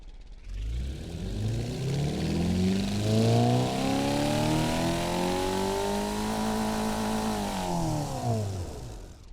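A sports sedan in stock form revs up, its engine note rising in pitch and holding steady before easing back down, loud and close with no talk over it.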